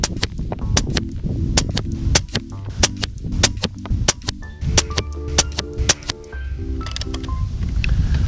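Air Venturi Nova Vista .22 bullpup air rifle fired outdoors, with many sharp, clean reports in irregular succession, some close together, over a steady breezy background and faint tonal hum.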